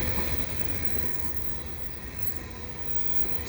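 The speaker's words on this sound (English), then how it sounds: "I've got a mixed freight here at Dorval underneath the ramps" A CN mixed freight train rolling past beneath the ramps at Dorval in Montreal, a loud, continuous rumble of cars and wheels with faint high squeal, steady throughout and close by.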